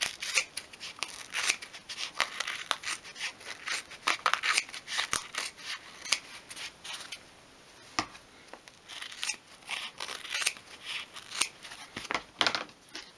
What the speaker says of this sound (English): you can cut round the card